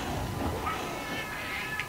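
A Melynx cat creature in the Wii game Monster Hunter Tri meows amid game ambience, its short cries rising over steady background sound, close and moderately loud.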